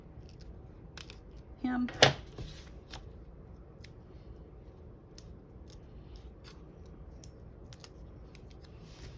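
Scissors snipping through a paper dimensional strip for a handmade birthday card, a quick close cut with a crisp crunch, then faint light handling noises in a quiet room.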